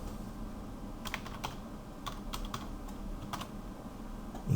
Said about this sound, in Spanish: voy a poner aquí la clave.